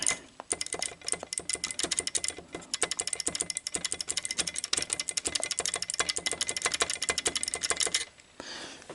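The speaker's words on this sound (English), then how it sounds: "You want to hear that clicking." The mechanism of a Sony SLO-420 Betamax VCR under repair makes rapid, close, crisp clicking in a dense, steady stream for about eight seconds before stopping abruptly.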